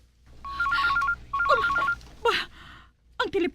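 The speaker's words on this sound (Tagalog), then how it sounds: "Ang telepono, nagring." A telephone rings in two clear bursts of electronic trilling tones, followed by a harsher third burst, while a voice speaks over the last part.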